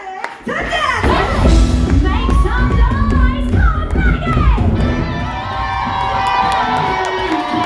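A London audience at a Megasix event cheers, whoops and claps loudly and continuously, with shouts rising over the applause and voices mixed in the crowd noise.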